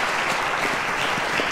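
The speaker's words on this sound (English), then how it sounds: "Ladies and gentlemen, a round of applause to Theophilus" Studio audience applause at a televised quiz competition as contestants leave, a dense steady wash of clapping throughout, even and sustained.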